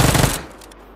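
A loud, rapid burst of automatic gunfire in PUBG, on the Sanhok map in a duo first-person match. It rattles for about a third of a second, then cuts off into quiet game ambience.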